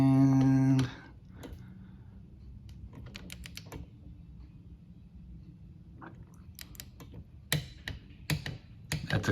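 An inch-pound torque wrench clicking, sharp isolated clicks scattered over a quiet background, grouped more closely toward the end.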